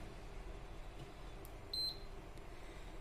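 A single short electronic beep from an induction cooktop's buzzer as it powers on during a repair test with a series bulb, sounding once against a steady low hum.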